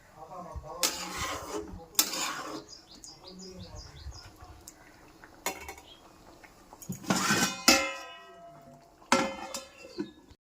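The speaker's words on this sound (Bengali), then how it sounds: "এখন এটাকে মিশিয়ে ঢাকা দিয়ে দিব।" A spoon clatters against a pot as kohlrabi curry is stirred, then a lid is set on top. Several sharp metallic scrapes and clanks come a few seconds apart, close and fairly loud, with faint birdsong behind.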